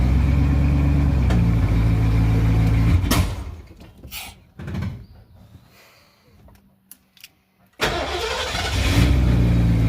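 An old Ford Ranger engine runs with a loud steady idle, cuts off, then after a quiet stretch with clicks and a door-like thump it cranks and fires back up to a loud idle.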